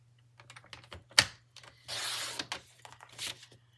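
Cardstock being cut on a paper trimmer: a quiet close sequence of light clicks and taps, one sharp snap, then a brief scraping slide of the blade across the card, followed by a few soft clicks, with no talk.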